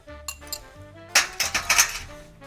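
Basil pesto being stirred with olive oil in a bowl, a spoon clinking against the dish in several sharp, close taps and scrapes over faint background hum.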